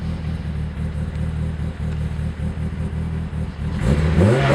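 A car with a 2.4L engine and stock ECU running on E85 accelerates while driving, a steady low engine drone that swells louder and rises in pitch near the end, with no voices.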